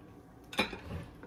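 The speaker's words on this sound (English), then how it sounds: "Put the lid on. Let's put it in the oven." A lid clinks down onto a roasting pot as a shrimp roast is readied for the oven: one sharp metallic clack followed by a faint rattle as it settles, in an otherwise quiet kitchen.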